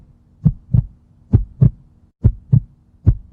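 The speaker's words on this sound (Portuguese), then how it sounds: "a batida normal do coração é mais ou menos assim, ó." A normal human heartbeat thumps in steady lub-dub pairs, about four beats at an even, relaxed pace. The beats are deep, loud and close, with no other sound.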